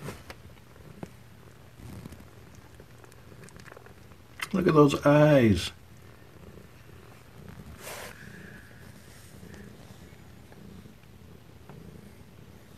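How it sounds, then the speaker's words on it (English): Kittens purr softly in a quiet room, a faint steady murmur near the microphone, broken midway by a brief burst of close human speech. "That way you can probably hear purrs."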